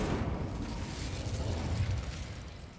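A fire spell bursts in Hogwarts Legacy, a muffled whooshing blast that swells and rumbles for a few seconds, heard alone.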